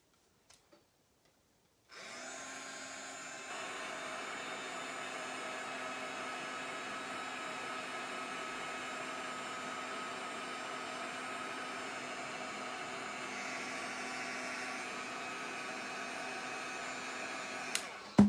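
A hair dryer blows steadily while drying paint on a mixed media craft tag, switching on after a couple of quiet seconds and then holding a faint, even whirring hum for about sixteen seconds with no talk.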